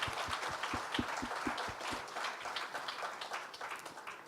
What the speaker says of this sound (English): Ladies and gentlemen, can I ask you to give a big hand to the panelists?